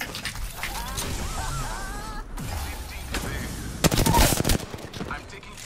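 Video game gunfire, with scattered shots and machine-gun fire against a noisy backdrop that builds to a loud, dense burst of rapid close shots near the end, under some faint voices.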